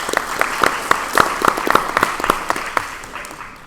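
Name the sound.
audience applause for candidates at a forum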